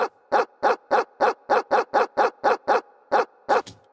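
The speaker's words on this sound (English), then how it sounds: "I did it with a dog barking." A dog barks in a steady rapid series of about a dozen sharp, evenly spaced barks, loud and close, with a slightly processed, repetitive quality.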